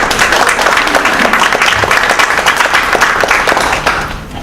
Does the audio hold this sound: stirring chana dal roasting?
no